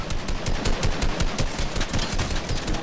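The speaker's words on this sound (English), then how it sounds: "Someone's shooting at me up high." Sustained automatic gunfire in the video game Fortnite, a dense, loud, rapid stream of shots without pause and no talking.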